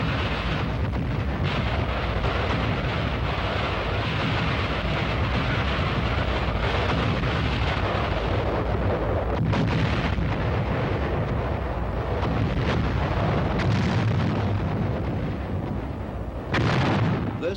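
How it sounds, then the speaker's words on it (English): Massed rocket artillery fire from World War II, a loud, continuous roar of launches and blasts that barely lets up across the stretch. "a new weapon came into use against the Germans: massed rocket fire."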